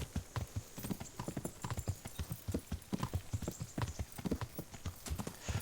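Horse hooves clip-clopping at a steady riding gait in the medieval game Kingdom Come: Deliverance, a rapid rhythmic series of dull thuds continuing throughout with no voices.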